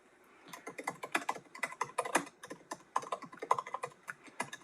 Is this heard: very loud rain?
no